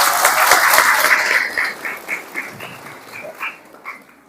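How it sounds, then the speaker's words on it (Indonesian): Applause from an audience at a Maulid Nabi gathering, loud dense clapping at first that thins and fades into scattered individual claps over a few seconds. "Kasih tepuk tangan dulu untuk yang sahih Quran tadi dulu."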